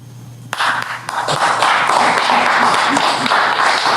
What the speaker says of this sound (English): You don't gotta clap for that